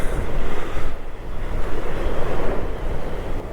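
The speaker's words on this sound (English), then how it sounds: "It's very windy, it's absolutely freezing cold, it's like Arctic conditions out here" Strong wind buffets the microphone on a cold, exposed UK beach, a steady loud roar with surf washing underneath throughout.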